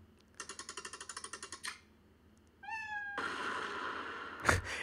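Cartoon effects from the game Gears and Exploding Kittens: a quick run of rhythmic ticks, a rising chirpy whistle, then a sustained loud burst of noise ending in a thump, with no talking.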